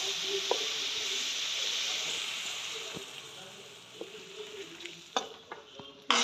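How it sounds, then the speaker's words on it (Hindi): Arbi leaf kadhi ingredients sizzle and hiss while roasting in a hot pan, a steady frying crackle with occasional stirring clinks and scrapes toward the end. "अच्छे से भूंजेंगे इसको।"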